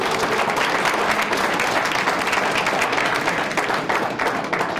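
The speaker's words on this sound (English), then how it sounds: "Give yourselves a round of applause." Close to 300 people at a listening tour held in a riverwalk restaurant break into loud, dense applause, a continuous roar of clapping from a packed room with no pauses.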